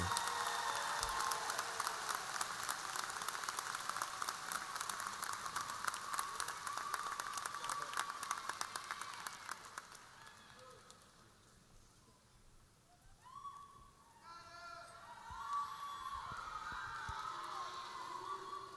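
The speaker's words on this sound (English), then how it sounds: "Please give the class of 2022 a round of applause for all we've accomplished and conquered to get to where we are today." A graduation audience at Fort Dorchester High School applauds the class of 2022 with steady, crowded clapping for about ten seconds. The applause then fades to a quiet hall with a few distant voices.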